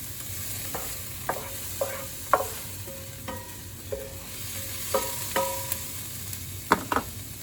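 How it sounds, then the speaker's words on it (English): Empanada filling frying in a pan is stirred with a series of scraping strokes, irregular clatters and taps over a faint steady sizzle, close and fairly quiet with no talking. "Stir this up a moment."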